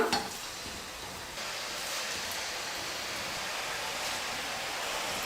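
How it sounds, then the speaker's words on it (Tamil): Murukku dough fried in hot oil, a close, dense and steady hiss of bubbling oil that starts with a soft clatter and holds constant, with no voices. "இப்போ நம்ம கரண்டியில் சுற்றி வச்சுருக்கிற மாவு வந்து எண்ணெயில் போட்டுக்கலாம்"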